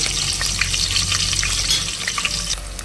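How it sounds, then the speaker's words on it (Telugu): Green chillies and onions frying in a pan for a goruchikkudu (cluster bean) tomato curry, giving a steady bright sizzle with occasional stirring clicks, close and continuous. "పచ్చిమిర్చి ఉల్లిగడ్డ యాడ్ చేస్తున్నాను"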